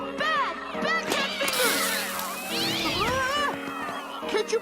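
Cartoon cat fingers from Steven Universe meow over and over in quick, overlapping high cries, close and fairly loud, with no clear talk between them.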